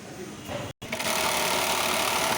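Industrial sewing machine stitching the top elastic onto a garment, a steady high whirring hum with a brief stop before resuming, close by, with a voice speaking over it.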